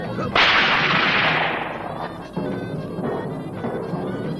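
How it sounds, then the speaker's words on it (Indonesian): A whip cracks in an Indonesian martial-arts drama: one sharp, loud crack followed by several weaker snaps and rustling, close and without talk. "Pecut meledak beberapa kali"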